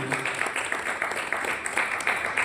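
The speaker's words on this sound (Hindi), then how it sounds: "उनके लिए मैं जोरदार तालियां चाहूंगा" An audience applauds steadily through the whole stretch, a dense wash of many hands clapping at a fairly even level with no voices standing out.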